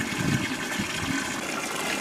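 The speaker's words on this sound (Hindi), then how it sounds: "पानी भरता जा रहा है और मेरे नहाने का टाइम करीब आता जा रहा है" Water gushing from a village tubewell pump as it fills, a continuous rushing splash close by with a faint engine hum beneath.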